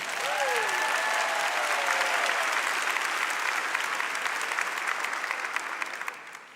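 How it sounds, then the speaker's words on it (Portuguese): Church congregation applauding during a sermon, dense sustained clapping that holds steady for several seconds and then fades out. "Aplauda a sua fé."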